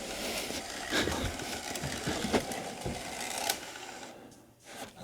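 A Bambu Lab AMS Lite on a 3D printer pulls in and spools filament with a quiet motor whir and soft mechanical clicks. The sound stays close and faint, drops away briefly near the end, then returns.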